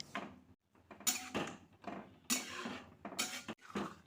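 Spatula scraping and stirring a semolina mixture with turmeric in a wok, a series of close irregular metallic scrapes and clinks with brief pauses.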